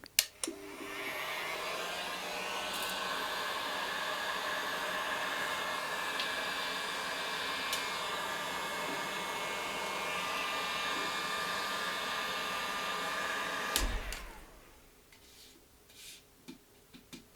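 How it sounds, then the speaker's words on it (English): A steady, loud blowing whir of a heat gun on its first setting runs for about fourteen seconds, then cuts off, leaving quiet room noise. "with my heat gun, I put it onto the first setting. It's going to be loud"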